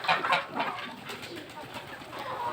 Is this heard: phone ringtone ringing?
no